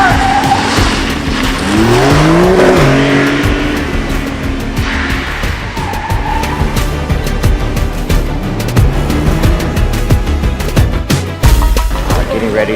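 Porsche Taycan electric cars in a chase scene for a 2020 Big Game commercial shoot: tires squeal and skid loudly through fast maneuvers, with whooshing pass-bys and gritty road noise close to the microphone throughout.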